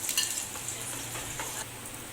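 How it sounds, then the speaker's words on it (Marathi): Onion fries in oil in a pan with a soft, continuous sizzle and light stirring, fairly quiet and brief, with no talking. "प्रथम आपण तेलामध्ये कांदा परतवून घेऊया"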